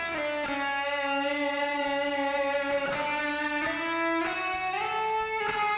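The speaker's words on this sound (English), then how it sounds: "what you hear now is the guitar on the left and the reverb of that guitar on the right" An electric guitar picks a repeating chord pattern, dry on one side with its reverb filling the opposite side, giving a wide, washy, continuous sound with no talking.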